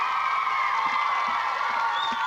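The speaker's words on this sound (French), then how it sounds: "On les applaudit," A crowd at a club event cheers and whoops steadily for two performers, a dense roar of voices with scattered claps throughout.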